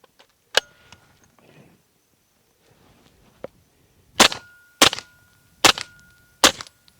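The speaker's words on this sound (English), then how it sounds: "I heard the action moving and slamming shut more than I heard the round" Suppressed 9mm pistol fired with 147 grain Hush subsonic ammunition through an Octane 9 2.0 suppressor: an isolated sharp crack, then four evenly spaced loud snapping shots outdoors, with faint rustling between.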